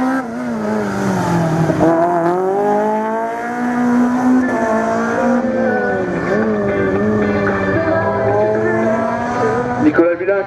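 Rally car blasting past at speed on a slalom race course at Lessay, engine howling through rising and falling gear changes, loud and close, with a commentator talking over it.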